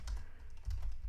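Rapid keystrokes on a computer keyboard while a name is entered into budgeting software, a short close burst of clicking with two quick clusters of taps.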